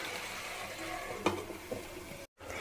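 Mutton curry frying in a pan, a steady close sizzle with a couple of brief clinks or stirs, then a sudden short cut to silence before the frying resumes.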